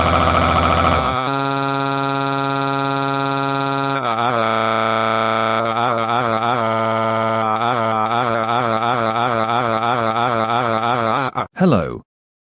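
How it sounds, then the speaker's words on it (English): A school fire alarm in a cartoon blares as a loud, steady electronic tone that shifts into a rapidly pulsing wail, continuous for about eleven seconds before cutting off abruptly. "Your sons just pulled down the fire alarm as a naughty prank at school"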